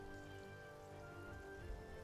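Soft, faint rain patters steadily in the video game For the King, a quiet continuous hiss with a low drone underneath and no voices.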